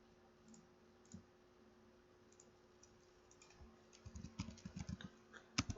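Commands typed on a computer keyboard in a quiet room, with sparse faint clicks at first and then a quick cluster of soft keystrokes ending in one sharper tap.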